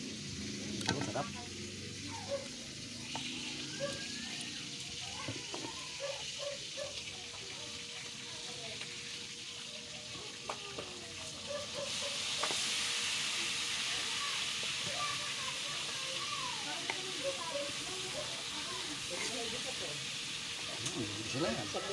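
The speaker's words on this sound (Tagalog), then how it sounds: "Gigisa na munggo, gigisa na." Mung beans sautéing in a pan, a steady hissing sizzle that grows louder partway through, close with faint clicks and background voices.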